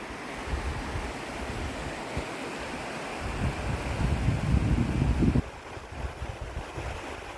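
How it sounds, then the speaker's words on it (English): Steady, loud rush of falling water, a dense roar with a sudden drop in level near the end. "Look at that waterfall."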